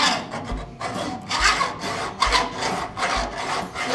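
Hacksaw cutting through the body of a traditional hot rod in a custom garage, with steady back-and-forth rasping strokes in a regular rhythm, close and fairly loud, with no talking.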